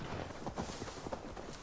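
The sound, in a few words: horse hooves trotting in Assassin's Creed Valhalla video game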